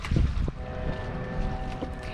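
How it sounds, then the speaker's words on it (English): Wind blowing across a Hunter sailboat being refitted, a steady broadband rush with gusty low buffeting at the microphone, loudest early on, plus faint tonal hums throughout. "Man, it is windy."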